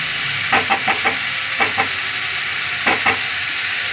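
A hilsa fish head frying in a pan with pumpkin, potato and onion is stirred, steady sizzling broken by several close clattering scrapes of the spatula in short bursts.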